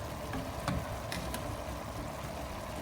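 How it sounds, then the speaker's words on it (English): Shrimps sautéing in a pan with a little butter give a steady close sizzle with a few sharp crackles and spits, no voices. "I saute them with a little bit of butter."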